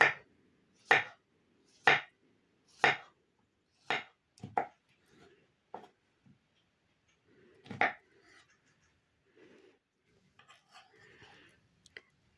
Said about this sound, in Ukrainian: Банан очистила і нарізаю його дрібненькими шматочками